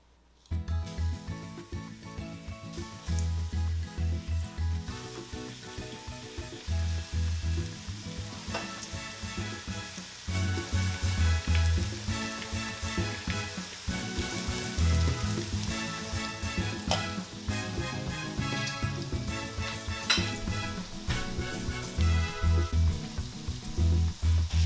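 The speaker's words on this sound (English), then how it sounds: "Once you hear the sizzling sound," Steady, crackling sizzle of chicken frying in hot oil, loud and close, with a pitched musical backing running underneath throughout.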